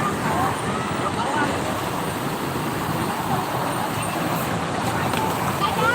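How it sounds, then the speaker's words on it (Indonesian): Congested highway traffic at the KM 58 rest area heading toward Jakarta during the holiday exodus, a steady rumble of cars, buses and trucks with idling engines and crowd babble close by. "Di rest area KM 58 arah Jakarta sedang macet."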